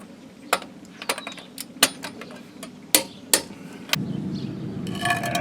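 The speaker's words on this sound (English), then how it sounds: "we'll go ahead, tighten our lugs here to 100 foot-pounds" Metallic clicks and clacks from a torque wrench tightening wheel lug nuts to 100 foot-pounds on a Ford Escape or Mazda Tribute, several sharp separate ticks spaced irregularly, with a faint rattling hiss at the end.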